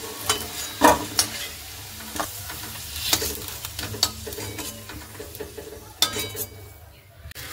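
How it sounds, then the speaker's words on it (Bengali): Potatoes frying in a pan for a green pea and potato dish, a loud close sizzle broken by frequent clattering stirs and metal scrapes against the pan. "আলুগুলো কিন্তু খুব সুন্দর লাল লাল করে ভাজা হয়ে গেছে"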